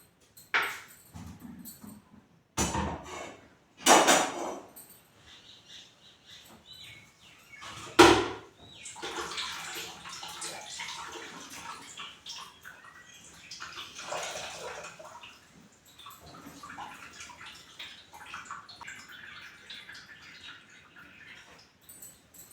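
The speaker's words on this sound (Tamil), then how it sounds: "ஒரு ரெண்டு டைம் தண்ணி ஊற்றி இந்த மாதிரி அலசி நம்ம புழிஞ்சு எடுத்துக்கலாம்" Splashing and sloshing water as curdled milk for homemade rasgulla is rinsed a couple of times and squeezed out by hand, with a few loud bursts early on followed by softer continuous swishing and dripping, close by and without talk.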